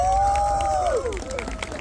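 An audience applauds and cheers after a dance performance at a furry gathering, with a dense crowd roar, a long high gliding whoop rising above it, and scattered claps continuing as the noise settles.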